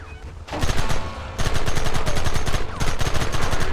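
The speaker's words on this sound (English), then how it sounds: "There they are! Open fire!" Rapid bursts of gunfire from the Red Dead Redemption video game, a dense, loud volley of overlapping shots with steady automatic rhythm, broken by a short gap before firing resumes.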